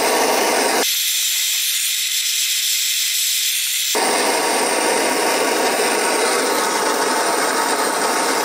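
A small camping gas torch heating parts of a 1955 Panhard Dyna Z1 engine during a rebuild, a loud, close, steady roaring hiss that briefly cuts out near the start, then resumes and continues evenly.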